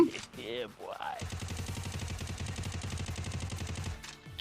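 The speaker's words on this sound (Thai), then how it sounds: "ผมชอบว่ะเสียงปืนมันเหมือนฟรีไฟเลย แต่มันลื่นกว่าฟรีไฟ" Rapid automatic gunfire from a battle royale mobile shooter similar to Free Fire rattles in a steady, sustained burst for about three seconds, preceded by brief in-game sound effects and voice chatter.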